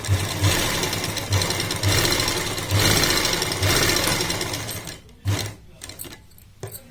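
A sewing machine runs in bursts while stitching pintucks along folded salwar fabric, its rapid mechanical chatter loud and close, starting and stopping several times, then a few short taps before the motor falls quiet near the end.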